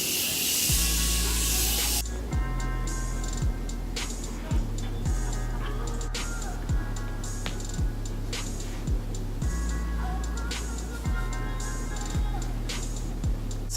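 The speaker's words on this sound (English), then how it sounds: "I'm gonna use my Morphe setting spray and set my face." Morphe setting spray hisses onto a face in one long burst, followed by a run of regular, evenly spaced pump clicks and short sprays, close and fairly loud, with no talking.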